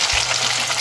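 Fish fries in hot oil Kerala style, a loud, steady, close sizzle with a brief bump as pieces are stirred, and no voices.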